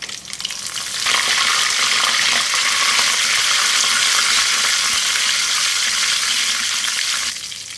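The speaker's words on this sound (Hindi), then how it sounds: "ये साबुत वाली मिर्चें हैं गोल। फ्राई करेंगे इसको।" Whole round red chillies and curry leaves fry in hot oil for a dal tadka, giving a loud, steady sizzle that starts abruptly after a quiet moment and holds for about six seconds before cutting off.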